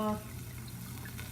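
White wine poured into an Instant Pot, a soft liquid trickle and splash following a brief voiced sound at the start, fairly quiet and close.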